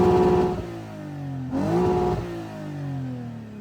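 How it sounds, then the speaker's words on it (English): A 2017 Lexus IS 350 engine with an RR Racing tune revs up sharply, drops back, then climbs again to a high whine near its 7,200 RPM redline before easing off, close by with no talking. "So that's just revving, that's not driving."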